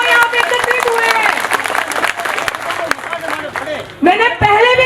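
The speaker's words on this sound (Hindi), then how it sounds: "आप सब लोग अपने लिए तालियां बजाओ" Villagers at a protest sit-in outside the district collectorate clap for themselves, a loud, continuous crowd clapping with a voice speaking over it and a brief dip before the clapping surges again.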